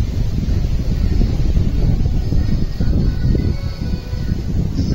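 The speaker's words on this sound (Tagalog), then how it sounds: "Tignan nyo, mahangin." Strong seaside wind buffets the microphone in a continuous low roar, gusting and rumbling steadily with no clear pauses.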